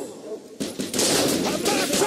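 Gunfire in the Mafia 2 game, a sudden burst of rapid shots breaking into sustained, dense, loud firing that fills the rest of the moment.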